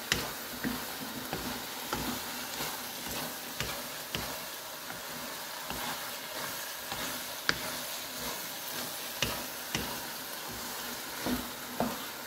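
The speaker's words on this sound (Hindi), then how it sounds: "अब हम इसमें 1 टिक्की बटर डालेंगे और इसको अच्छी तरह से भूनेंगे।" Grated carrot barfi mixture roasts in butter in a pan, a soft steady sizzle broken by regular ticking spoon scrapes and taps, close and without talk.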